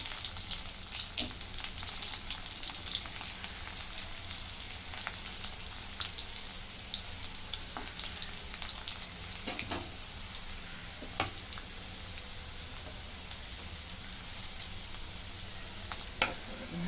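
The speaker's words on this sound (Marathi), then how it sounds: "आता याच्यामध्ये जिरं टाकून घेते जिरं तळत हा बारीक घेतलेला लसूण चिरून तो टाकून घेते" Cumin seeds and finely chopped garlic fry in hot oil with a continuous bright sizzle, dotted with small pops and crackles, close and steady with no talking.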